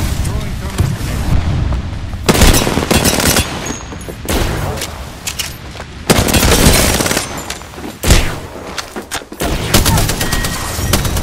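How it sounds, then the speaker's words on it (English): Thermite grenade thrown during a fight in Apex Legends, heard amid a loud, dense stretch of game combat with repeated bursts, crackling gunfire and heavy booms; a voice speaks at times under the noise. "Throwing thermite grenade."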